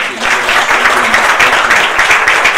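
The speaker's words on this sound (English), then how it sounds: "I would like to ask you to give them another round of applause" Sustained audience applause fills a conference closing session, dense and loud clapping from a large crowd throughout.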